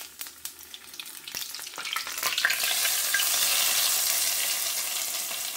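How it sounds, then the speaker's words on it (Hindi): Cumin seeds crackle and sizzle in hot oil, starting with sharp scattered pops and building into a steady, close frying hiss. "तो गरम गरम ऑयल में हम डालेंगे ज़ीरा। ऐसे कड़कड़ाहट की आवाज़ सुनिए आप।"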